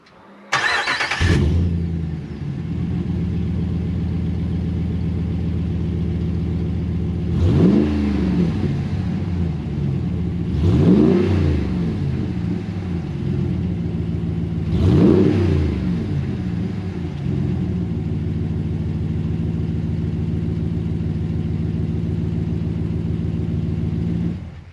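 A RAM 1500 pickup fitted with a Kuluin sports muffler cranks and fires up, settles into a deep steady idle, then gets three short throttle blips spaced several seconds apart, each swelling and falling back to idle.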